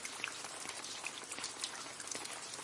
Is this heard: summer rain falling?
yes